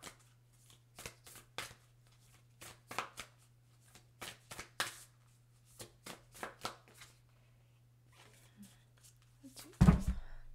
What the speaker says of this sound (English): Let's get you guys some Moonology cards.